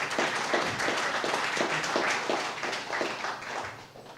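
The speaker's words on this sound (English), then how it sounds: "Give Jane a round of applause." A crowd at an event on youth employment and training services gives a sustained round of applause, dense and fairly loud, with many hands clapping at once before it slowly eases off.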